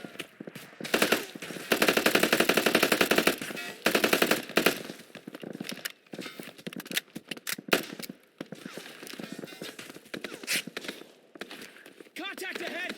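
Sustained machine-gun fire in a military shooter video game with insurgents, long loud bursts early then scattered shots, under shouted combat voices.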